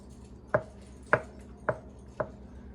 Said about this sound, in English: I like to cut these in quarters